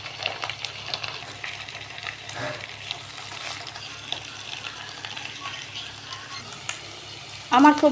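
Spiced masala for banana-flower (mocha) kofta curry sautés in a pan with a soft, steady sizzle and occasional stirring scrapes and clicks, close by, and a brief voice at the end.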